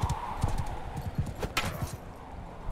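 Horse hooves clip-clop in a steady, quick rhythm in the medieval battle game Mount & Blade II: Bannerlord, fairly close and prominent, with a brief louder clash partway through and no talking.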